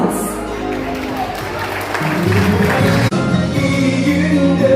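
Wedding guests at a Turkish wedding applaud a couple's first dance, clapping mixed with crowd noise and music that swells partway through.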